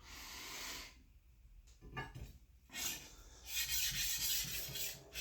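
A steel planer knife is sharpened by hand with a file, giving repeated rough rasping strokes in bursts, loud and close, with short pauses between passes.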